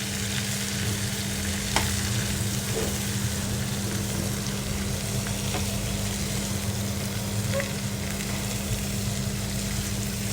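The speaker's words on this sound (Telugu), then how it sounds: "కిందికి పైకి మంచిగా కలుపుకోవాలి ఆయిల్ అంతా ముక్కలకు పట్టేట్టుగా" Thinly sliced ivy gourd and green chillies with ginger and garlic sizzle in oil as they are stir-fried, a loud continuous frying hiss with faint stirring scrapes throughout.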